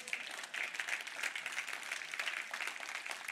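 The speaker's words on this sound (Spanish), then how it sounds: "Si va a aplaudir, aplauda bien," A church congregation claps together, a fairly faint but dense and sustained round of applause with no talking over it.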